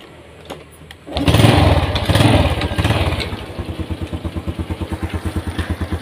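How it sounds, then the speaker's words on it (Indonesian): A Honda Revo Absolute motorcycle engine, freshly rebuilt with a new front gear shaft, starts up and revs loudly before settling into a steady, close idle with even rapid pulses. "Jadi ini motor sudah hidup ya, sudah nyala"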